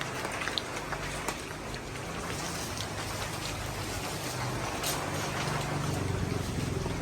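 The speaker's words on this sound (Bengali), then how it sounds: "বৃষ্টি একবার পুরা চটে নেমে গেছে।" Heavy rain pouring down as the sky turns dark, a dense, steady roar of drops hitting surfaces close by, constant and loud throughout with no voices.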